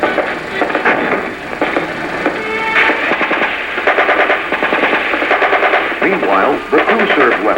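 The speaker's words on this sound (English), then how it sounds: "the crew-served weapons, which have been displaced to the first squad's overwatch position, are placing suppressive fires on the enemy" Crew-served weapons lay down sustained suppressive machine-gun fire during a 1975 rifle platoon training exercise, dense rapid bursts continuing throughout, loud and close, with a narrator's voice running underneath.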